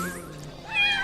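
A cartoonish cat meows in the spooky video game Haunt the House: Terrortown, one short close meow with a rising, wavering pitch over a faint musical background, with no talking.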